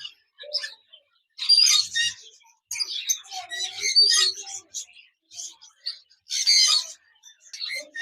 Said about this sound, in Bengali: এখানে দেখতে পাচ্ছেন একজোড়া বাজরিকার পাখি রয়েছে